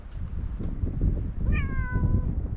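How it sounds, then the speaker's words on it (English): A cat gives a single clear meow, rising then falling, close by over a low rumbling background, with no talking. "Oh, Kitty, what are you doing"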